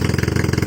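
A Suzuki Smash 115 motorcycle engine with freshly redone wiring and a full-wave charging conversion runs up in a steady, even rev. It's close and loud, with a dense low pulsing throb and no talk.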